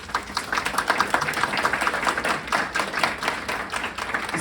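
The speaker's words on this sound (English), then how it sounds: "A round of applause for them, please" An audience claps for panelists after a discussion on recovery, a brisk and fairly close patter of individual hands that holds steady to the end.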